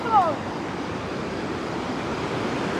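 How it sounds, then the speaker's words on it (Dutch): Steady broadband rush of water flowing through a deep gorge, constant and moderately loud from start to finish, with a brief faint tonal chirp near the start. "We horen het water al wel veel beter."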